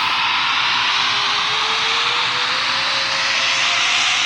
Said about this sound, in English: Flaps down. Check camera list. Okay. And now our takeoff.